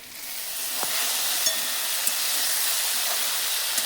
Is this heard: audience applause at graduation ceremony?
no